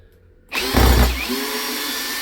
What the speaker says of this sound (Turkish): Elimdeki en uzun vidayı atıyorum şu an.